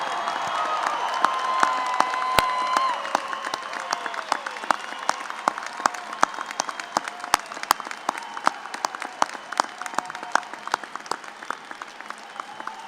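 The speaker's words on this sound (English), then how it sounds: "let's give them a big round of applause." A crowd at a university engineering commencement applauds steadily for the whole stretch, dense clapping with scattered sharper claps and a faint murmur of voices underneath.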